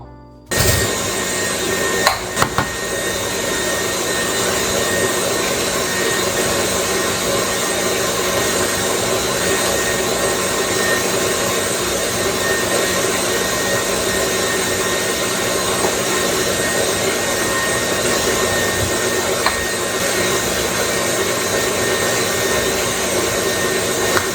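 An electric mixer beats Lebkuchen dough in a steady, unbroken whir that keeps the same pitch throughout, with a brief clunk near the start and no talking.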